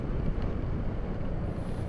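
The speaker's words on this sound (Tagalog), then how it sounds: "Lakas ng hangin." Steady, roaring wind buffets the microphone in Marinduque, Philippines, a dense low rumble without pause and no voices.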